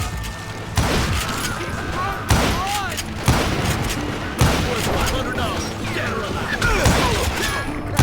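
Rapid gunfire erupts in a Wild West shootout from the video game Call of Juarez: Gunslinger, with repeated loud shots and crashing impacts over roughly eight seconds against a steady background of battle noise.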